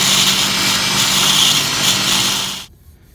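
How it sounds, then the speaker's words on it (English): Belt grinder running a 36 grit belt while shaping a kitchen knife made from a farrier's rasp, a loud steady abrasive hiss and whine that cuts off abruptly near the end. "So now we're just going to move on to the 36 grit belt over here on the grinder."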